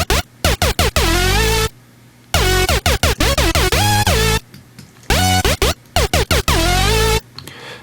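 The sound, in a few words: Serum synth lead/bass preset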